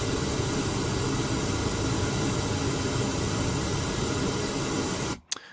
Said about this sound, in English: it's so easy to use correlated pink noise. Now let me play this for you real quick